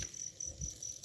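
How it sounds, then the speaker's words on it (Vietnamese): Field crickets caught at night repeat their shrill, pulsing chirps in quick regular bursts, close and faint against a low, quiet background. "Nè, cái này dế đá nè,"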